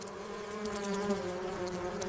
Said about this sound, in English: For a short time, thousands of bees travel together as one living cloud.